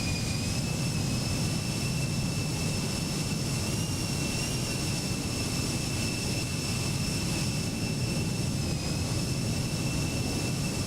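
Embraer E190 jet engines at departure in the X-Plane 12 flight simulator: a constant, even engine roar with two steady high whining tones, unbroken and heard alone for the full length.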